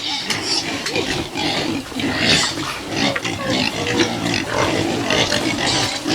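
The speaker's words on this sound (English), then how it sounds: "see what the fattening pigs are doing here" Several fattening pigs grunting and snuffling close by, a busy, overlapping chorus of low oinks with occasional clanks in the background.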